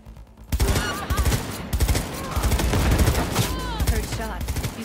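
Rapid gunfire in the Cyberpunk video game: dense bursts of shots following one another in quick succession after a short quiet start, loud and continuous, with game effects layered in.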